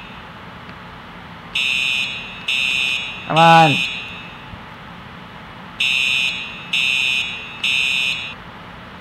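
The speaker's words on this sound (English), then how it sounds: "You have your Simflex alarms, true alert alarms." A fire alarm in the Roblox video game sounds in repeated short electronic beep bursts in two groups of three, with a sweeping whoop tone between them and a brief spoken remark.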